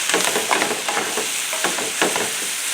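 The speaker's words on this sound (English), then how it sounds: "We'll give this a stir and see where we're at." Steak sizzling and frying in a pan for a Philly cheesesteak pizza filling, stirred with scraping, clattering strokes in an uneven rhythm, close and fairly loud, with no voices.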